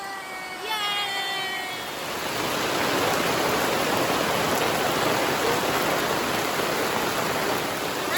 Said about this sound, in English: thankfully we have these pop-ups because it's pouring